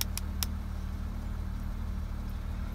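A freshly started diesel car engine idles with a steady, low, even hum and rumble, a few sharp clicks at the very start, then constant and unchanging throughout.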